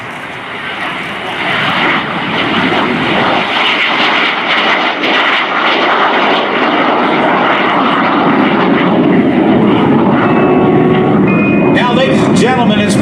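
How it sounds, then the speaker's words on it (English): Lockheed T-33 Shooting Star, a late-1940s jet trainer, roars loudly past at an air show, a sustained heavy engine rumble and whine that swells and lingers, with faint crowd or announcer noise underneath. "This is the Lockheed T-33 Shooting Star."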